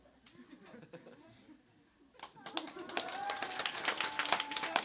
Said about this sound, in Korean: 한번 격려의 박수 해주실래요?